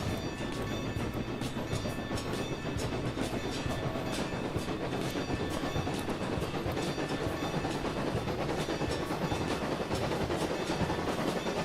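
A locomotive in the game Railroads Online backs up with a loud, steady rumble and rhythmic clickety-clack of wheels on rails, sustained and close without pause.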